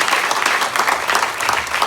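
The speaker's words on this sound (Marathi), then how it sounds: "त्याबद्दल तुम्ही टाळ्यांचा कडकडाट केला पाहिजे." Audience applause follows praise at a talk on the 26/11 attacks given by the chief investigating officer. It is dense, steady clapping from a sizeable crowd that lasts the whole stretch with no voices over it.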